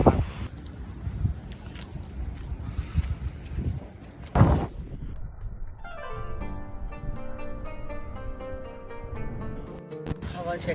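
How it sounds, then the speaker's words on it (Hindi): Strong, dusty wind blows outdoors, roaring and buffeting the microphone with gusty rumble, while a steady tonal sound enters partway through and continues under the wind. "मट्टी और डस्टी वेदर हुआ हुआ है। मट्टी चेक करें, तेज हवा चल रही है।"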